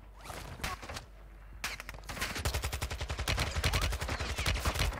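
Rapid bursts of gunfire in Call of Duty Warzone (Modern Warfare 2) on Ashika Island, loud and close, starting as scattered shots and building into a dense, continuous automatic stream.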